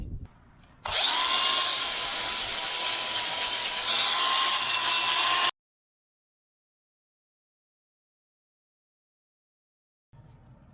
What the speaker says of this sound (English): I'm going to switch to a flap disc here to give this thing a smoother finish